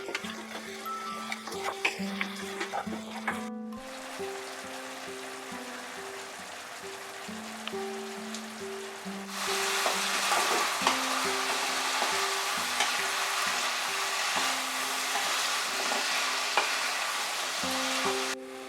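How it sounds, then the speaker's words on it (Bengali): Mutton sizzles and fries in a pan over medium heat, with stirring scrapes and clinks. A steady crackle rises louder partway through, while background music plays throughout. "দশ মিনিট আমি কষিয়ে নিলাম মাঝারি আঁচে রেখে মাটনটাকে।"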